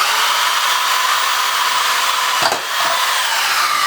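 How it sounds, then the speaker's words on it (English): A power drill bores holes in a steady, loud, continuous whine that holds for several seconds, dips briefly as the bit catches or pauses, then resumes with no talking. "Just drill directly into the center of the holes"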